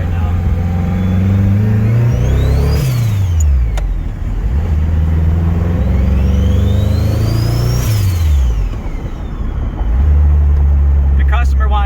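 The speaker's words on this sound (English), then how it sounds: "I want you guys just to hear the turbo sound" A turbocharged car engine revs hard, climbing and dropping in pitch several times, with a sharp turbo whistle rising and falling over the loud, close engine roar.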